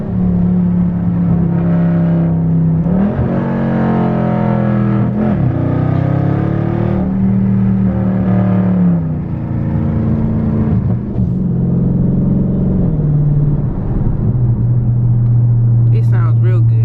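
A 2019 Dodge Charger Scat Pack with its catalytic converters removed drones loudly from inside the cabin, its exhaust rising and falling through repeated gear changes as the car accelerates, a steady deep roar throughout with faint talk near the end.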